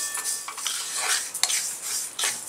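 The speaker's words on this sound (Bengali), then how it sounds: "এইবার সমস্ত মশলাকে আমি ভেজে নেব, একসঙ্গেই সব কিছু ভেজে নিচ্ছি।" Whole spices, including black mustard seeds and peppercorns, are dry-roasted and stirred in a pan for a homemade chili pickle, with repeated metallic spoon scrapes and clinks over a faint, steady sizzle.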